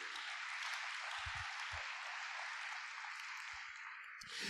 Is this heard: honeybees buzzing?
no